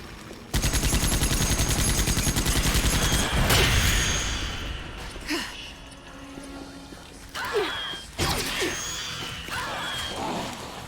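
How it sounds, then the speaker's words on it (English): Minigun in the video game Dreamkiller fires a loud continuous rattling burst for about three seconds, then gives way to crashes, whooshes and scattered impacts of game combat. "Oh no, the minigun."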